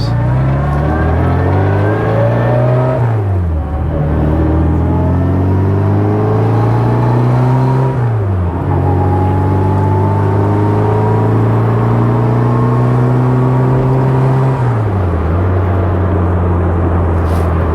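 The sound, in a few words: 1960 Bugeye Sprite car engine running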